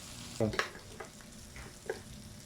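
Shrimp and seafood frying in butter in a pan for a seafood dish, with brief stirring and turning clatters and soft sizzling between a few short taps.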